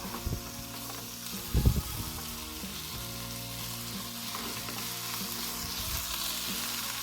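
Chayote shoots sauté in a pan with soy sauce, giving a continuous close sizzle broken by a few clattering stirs of the utensil against the pan.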